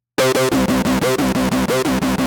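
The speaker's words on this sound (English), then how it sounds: "Let's make a hard synced FM arpeggiator." A harsh, buzzy hard-synced FM synth arpeggio made in Caustic cycles through rapid repeating notes, each one sharply gated with a bright, metallic edge, loud and close.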